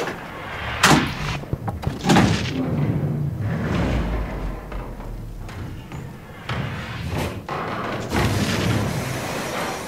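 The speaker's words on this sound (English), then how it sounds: "I told you I didn't trust those sonic booms." Deep booms and heavy thuds from the video game Inside, several loud impacts spaced irregularly over a low rumbling background.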